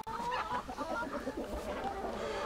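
A Black Star hen clucks softly and continuously in a nesting box on a farm, low murmuring clucks with a faint background hum and the muffled sense of an enclosed space.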